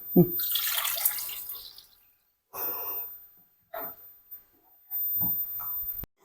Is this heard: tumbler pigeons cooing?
no